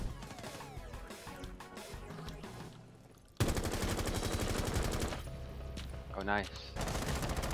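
Rapid gunfire in the Rainbow Six Siege video game, dense bursts of shots and impacts crackling throughout, loud and close, with brief excited talk from a player over the action.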